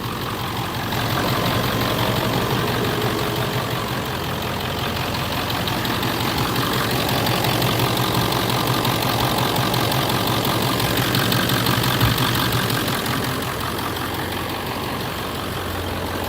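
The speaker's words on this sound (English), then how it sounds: "something about this engine's like, it screams" A pickup truck engine idles steadily up close, a continuous low, rough rumble with a slight knocking texture and no talking.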